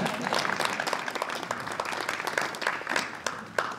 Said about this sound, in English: She made an effort, and we have to applaud.